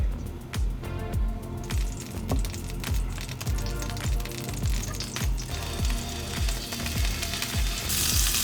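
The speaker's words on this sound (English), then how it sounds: "we're gonna shallow fry it, so just a bit of olive oil" Chicken breast meatballs shallow-fry in a thin layer of olive oil in a pan, giving a steady sizzle with a rapid crackling, ticking patter close by.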